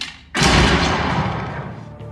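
A single sharp, heavy gunshot in a movie bursts out after a brief silence, followed by a long booming decay.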